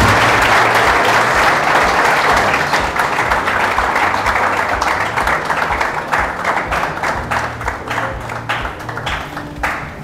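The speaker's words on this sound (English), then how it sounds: "A big round of applause to Gautam." An audience at an event honouring a student bursts into sustained applause, dense and loud at first and thinning to scattered individual claps over about ten seconds.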